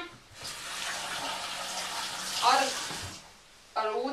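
Water runs steadily into a cooking pot holding four potatoes and a carrot, a continuous hissing pour lasting about three seconds before it stops, with a voice briefly speaking at the end.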